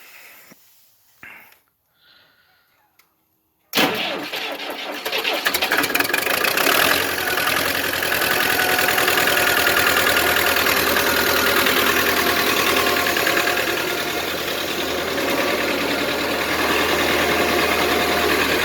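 A farm tractor engine cranks over after a few faint preliminary clicks and thumps, then settles into a loud, steady rumbling idle with a knocking, chugging character that carries on alone for the rest of the clip.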